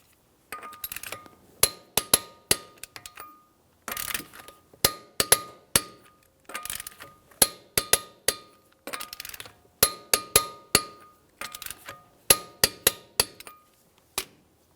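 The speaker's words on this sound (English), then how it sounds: "With the wheel back on the ground, we'll torque these in a crisscross manner." A torque wrench tightening the lug nuts on a 2006-2012 Ford Fusion wheel to 100 foot-pounds in a crisscross pattern, bursts of sharp metallic clicks in quick runs separated by short pauses, close and clear.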